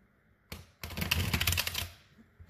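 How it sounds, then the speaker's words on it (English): A deck of Mystical Manga tarot cards being shuffled, a short burst of rapid riffling clicks and flutter, close and fairly quiet, ending abruptly after about a second and a half. "So I'm going to do my first shuffle with these cards."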